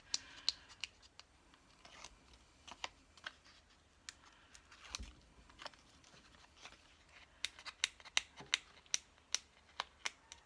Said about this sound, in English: peel off the back of this double-sided tape